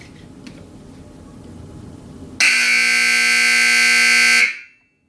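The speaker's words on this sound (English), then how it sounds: "That'll run the buzzer and it runs itself." A rodeo timer buzzer sounds one long, loud, steady electronic tone for about two seconds after a quieter stretch of background noise, then cuts off abruptly.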